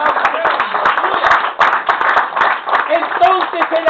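Church congregation clapping through a service, a dense run of hand claps with sharp accents and faint voices and music mixed underneath.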